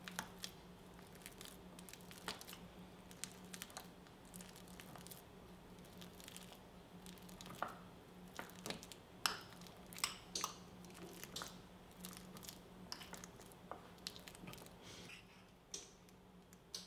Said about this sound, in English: I'm just going to mash my banana with a fork here